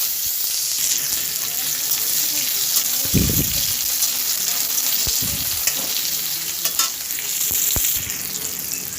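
Chopped tomato sizzles in a pan of oil with blackened dried chilli for masoor dal, a steady frying hiss with a few low knocks of stirring.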